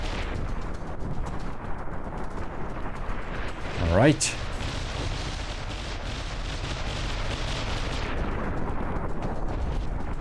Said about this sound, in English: Bam! Explosions.